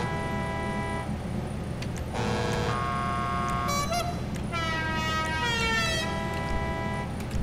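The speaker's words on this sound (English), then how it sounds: "Let's leave the regular honkity honk" A stock car horn in GTA 5 Online sounds in a few short harmonic toots with pauses between them, loud over a steady game background hum.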